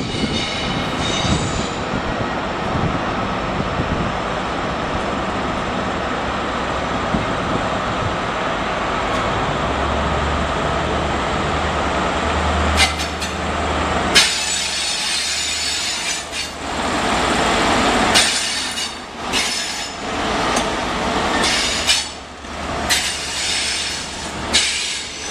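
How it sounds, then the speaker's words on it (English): An HST high speed train rushes past with a long rumbling, rattling roar that builds and then breaks into choppy bursts of wheel and wind noise as the carriages go by. "There goes an HST"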